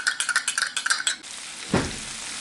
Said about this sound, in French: Quand le magret il commence à chanter comme ça, on entend la graisse